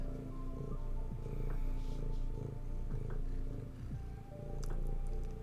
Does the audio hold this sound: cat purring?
yes